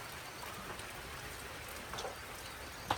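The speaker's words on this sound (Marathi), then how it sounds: "पावसाने चांगली हजेरी लावली बरं का." Soft, steady patter of rain dripping from a metal roof sheet with faint drips, ending in one sharper drop striking metal; quiet and close, no voices.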